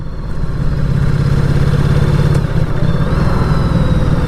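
A 2019 Ducati Diavel 1260S engine drones loud and steady at close range during a test ride, with a rhythmic low pulsing throb, rising slightly and continuing without speech.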